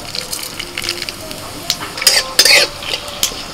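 A bay leaf and torn dried red chilies hit hot mustard oil for tempering, producing crackling sizzle with sharp bursts and spoon clatter against the pan, close and loud in places.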